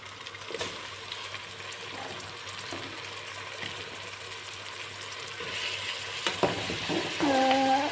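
Meat drops into onions frying in a pot and a steady sizzle follows, with stirring and scraping in the pot. The frying grows louder toward the end.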